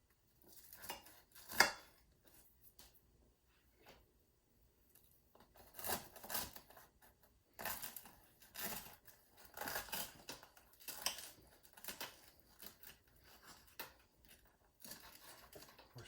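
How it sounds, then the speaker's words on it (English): A knife cuts a mushroom panini in half with scattered scraping and crunching strokes, then a sharp clatter against a plate or board, all faint and close with quiet gaps between. "so let's cut it in half. Where's my knife?"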